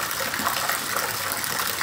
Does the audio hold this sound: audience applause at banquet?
no